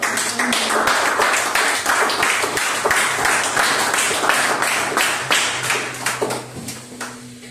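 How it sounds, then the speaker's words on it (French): Loud, close applause from a church congregation at a Sunday service, brisk overlapping hand claps in a dense rhythmic wash that thins out slightly toward the end. "Nous avons une grande acclamation."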